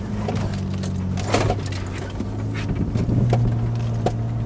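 A four-wheel drive climbing an off-road track, a steady low engine drone with rattles and clanks from the body as it works uphill, close and fairly loud.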